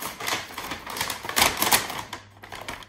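Vacuum-sealed food delivery packages being opened and handled: close, sharp crinkling and tearing of plastic in rapid irregular bursts, louder in the middle, with a faint low hum beneath.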